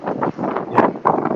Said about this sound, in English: I can put my hood up if it's a bit too windy.